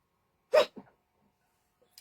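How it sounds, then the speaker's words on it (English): A single sharp sneeze close by, followed by a short breathy exhale, then near silence. "sorry, I'm going to sneeze, so just bear with me."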